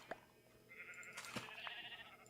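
Quiet bleating from Minecraft sheep, a couple of short wavering calls in a faint game soundscape.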